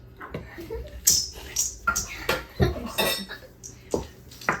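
Ingredients stirred together in a mixing bowl, with a rhythmic run of scraping clinks and knocks from a utensil against the bowl, fairly close and loud, about a dozen strokes.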